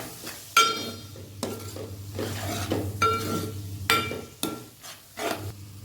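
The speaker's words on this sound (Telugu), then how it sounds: "మసాలాలన్నీ మళ్ళీ ఒక వన్ మినిట్ వరకు అయితే కలుపుకోవాలి ఫ్రై చేసుకోవాలి" A spatula stirs and fries coriander powder and garam masala with ivy gourd in a pan for masala curry, giving sharp metallic scrapes and clanks every second or so over a low steady sizzle.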